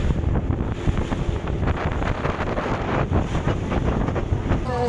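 Steady rushing wind buffets the microphone while a private boat churns through the sea near Phi Phi Island, Thailand, waves and engine blending into a continuous loud roar.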